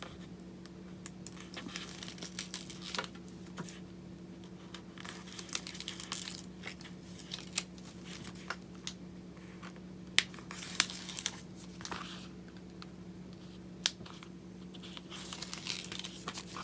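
Cut stencil vinyl being weeded by hand, with soft crinkling, peeling and occasional crisp ticks and tears repeating irregularly at close range over a steady low hum, no talking.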